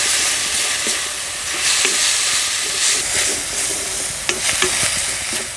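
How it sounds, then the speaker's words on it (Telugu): Onions, tomato, coconut and spices are stirred in a frying pan for a hyacinth bean curry, a loud steady sizzle with repeated scraping strokes and occasional sharp clicks of the spoon. "ఇది 2 నిమిషాల పాటు అలా కలుపుకొని 1 చెంచా ధనియాల పొడి, 1/2 చెంచా కారం కూడా వేసుకొని బాగా కలుపుకుందాం."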